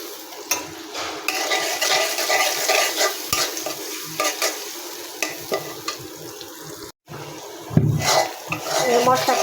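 Spice paste with salt and ground garlic sautéing in a pan, with a steady close sizzle and frequent scraping and stirring clatter of a utensil against the pan, broken by a brief gap near the end.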